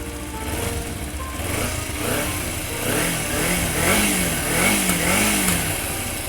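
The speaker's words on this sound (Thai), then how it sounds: "มาฟังเสียงท่อเดิมกันเลย อ่า สตาร์ทติดทีเดียวรู้เรื่องเลยนะครับ" A 2014 Kawasaki Z250 motorcycle with its stock exhaust idles just after starting, giving a steady, close, mid-pitched engine drone with slight wavering rises in revs and no talk over it.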